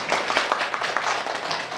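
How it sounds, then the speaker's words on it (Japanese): A classroom audience of high-school students at a university trial lesson applauds, a dense steady patter of many hands clapping together without pause, close and moderately loud. "じゃあ拍手"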